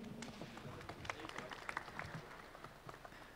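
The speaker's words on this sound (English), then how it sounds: "Round of applause, please" Seminar audience applauding at an award presentation, a steady patter of scattered claps from a room of people, moderately quiet and continuous for a few seconds with some murmured voices underneath.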